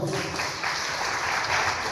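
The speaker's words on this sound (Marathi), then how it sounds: "टाळ्या वाजवू आपण." An audience clapping together at a church birthday gathering for a 78-year-old, a dense continuous wash of applause with no distinct voices.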